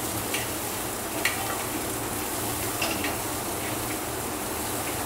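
Cumin seeds, finely chopped green chilli and plenty of fresh coriander sautéing in a pan for jeera rice, giving a steady soft sizzle with a few faint stirring clinks, no voices.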